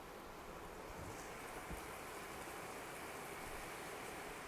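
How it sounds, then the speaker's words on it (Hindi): Heavy rain falls outside as a steady, dense, even hiss with no pauses, heard from indoors at a fairly low level. "इट्स रेनिंग आउटसाइड, बहुत तेज़ बारिश हो रही है।"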